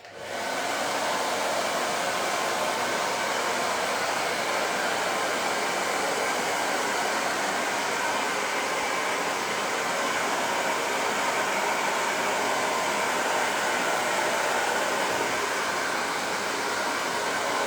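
Hair dryer blowing on a curly layered haircut, a loud, steady whooshing roar that starts abruptly and holds constant and close for the whole stretch.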